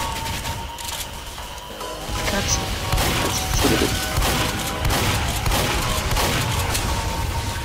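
Gunfire and explosions in the online shooter Team Fortress 2, with dense overlapping shots and crashes that continue steadily throughout. Someone shouts angrily over the combat.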